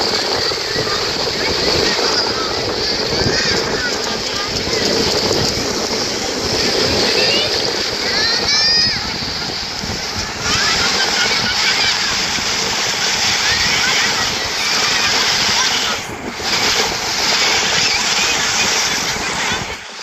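A water bike runs at a beach, its engine drone and rushing water and surf sounding steadily at mid distance, with people talking nearby.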